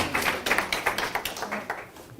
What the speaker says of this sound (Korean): 다 같이 박수로 하고.